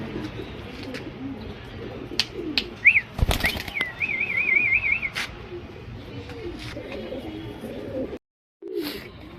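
Male Gulzar pigeons in a loft, a soft rolling coo and a burst of wing flapping close by over a steady background murmur, with a brief silent gap near the end.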